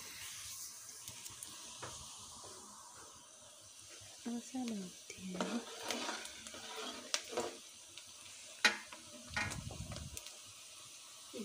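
Onions frying in a pan until browned, giving a soft steady sizzle with occasional scraping stirs and clatters of the spoon against the pan. Someone talks over it at times.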